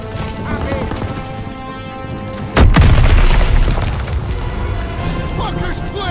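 A demolition charge explodes in the video game Call of Duty WW2, one sudden heavy boom partway through with a deep rumbling tail, set against ongoing battle noise, scattered gunfire and voices.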